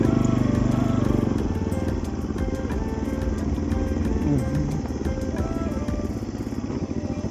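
A motorbike engine runs steadily and close up on a hill road in Nuwakot, Nepal, holding an even pulsing drone with small pitch shifts as it rides along, and no voices come through.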